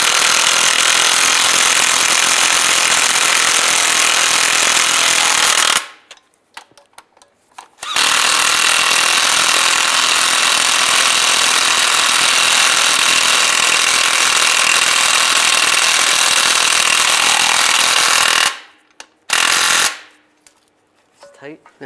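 A power tool runs in long, loud continuous bursts while tightening bolts on a 2007-2013 Chevrolet Silverado transfer case and transmission mount, with two short pauses between runs.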